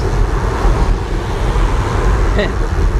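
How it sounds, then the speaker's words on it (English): A car approaching and passing close behind a cyclist on a road, a steady broadband rumble of tyres and engine with wind noise throughout, loud and near, with a voice talking briefly. "There's a car behind me."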